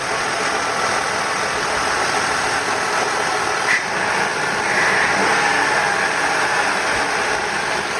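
A steady, rumbling van engine idles close by with a constant exhaust drone, unchanging for the whole stretch, with no voices.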